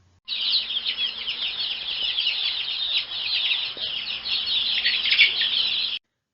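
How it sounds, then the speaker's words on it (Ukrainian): Chicks cheep constantly in a dense, high chorus while a hen clucks softly underneath, nearby and steady throughout. "Ходять біля мами квочки. Та це ж її дітки, курчатка."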